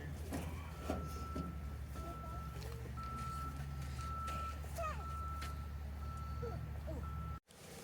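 A 1982 Ford F150 truck's reversing alarm beeps in a regular rhythm over a loud, rumbling engine idle as it backs a trailer into a garage, with faint scattered clanks around it.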